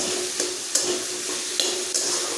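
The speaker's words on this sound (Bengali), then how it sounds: "সর্ষের তেলে আমি এই ডালটা অল্প আছে মিনিট 10 ভেজে নেব" Lentils frying in mustard oil in a pan, a steady close hiss and sizzle with a few sharp scraping stirs of a spatula breaking through at intervals.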